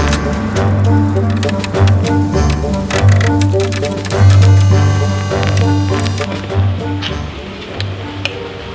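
Rain falls at a truss-bracing job site, a steady patter with scattered sharp ticks and drips on surfaces, fairly close and continuous throughout.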